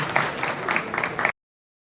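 Audience applause at a community award ceremony honouring students, a dense wash of clapping from a hall crowd that swells in bursts and then cuts off abruptly after about a second and a half.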